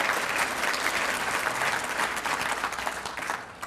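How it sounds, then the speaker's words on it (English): An audience at a school district State of the District event breaks into a round of applause, dense steady clapping from a large crowd that holds evenly and thins slightly toward the end. "we should give them and the foundation a round of applause"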